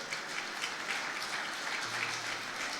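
A congregation claps steadily at a church service, a dense, even wash of applause holding for a few seconds at moderate distance, with a faint voice underneath.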